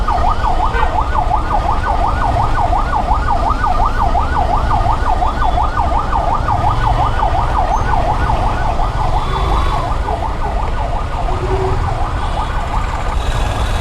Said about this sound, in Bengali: অ্যাম্বুলেন্স আটকে আছে, তাও রাস্তাটা ছাড়তেছে না।